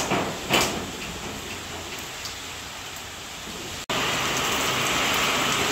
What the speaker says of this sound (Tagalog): Lumakas na naman po ang ulan.